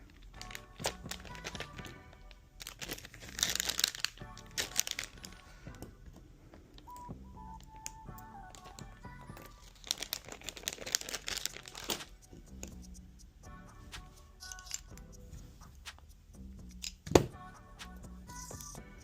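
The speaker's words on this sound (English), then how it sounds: "let's clean up our trash" Packaging trash crumpled and handled during cleanup after airsoft gas blowback rifle work, quiet crinkling and rustling in bursts with scattered taps and thunks, close by.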